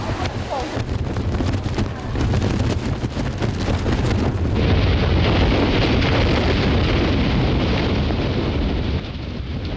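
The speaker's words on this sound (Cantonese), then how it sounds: "風神嘅風力好強大㗎" Strong gusts from Tropical Storm Fung-wong on a Hong Kong street, heard as loud, continuous wind buffeting against the microphone that rises slightly partway through and holds as a close, rough roar.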